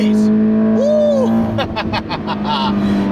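A 2017 Toyota 86 with TRD suspension is revved high toward redline, its engine a steady tonal drone with rising and shifting pitches as the car accelerates, while someone talks over it.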